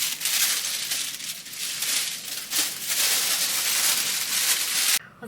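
Aluminium foil being peeled up off a floor and crumpled by hand, a loud, close, continuous crinkling and crackling that runs for several seconds before cutting off abruptly near the end.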